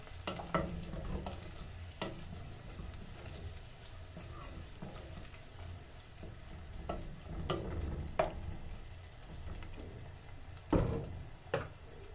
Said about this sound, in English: I'm going to add the chopped smokies.